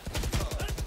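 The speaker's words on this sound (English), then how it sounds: "He's jumping and shooting." Rapid automatic gunfire from the video game Valorant, a tight burst of repeated shots lasting under a second, loud and close.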